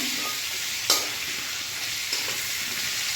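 Goat meat and potatoes fry with turmeric in a pan with a loud, continuous sizzling hiss, interrupted by a couple of brief scrapes as they are stirred.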